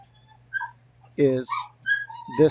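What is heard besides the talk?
dog whimpering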